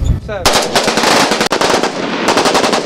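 Rapid, loud rifle fire crackles in dense overlapping bursts at close range as schoolchildren shoot together on command at shooting practice, with a brief pause midway.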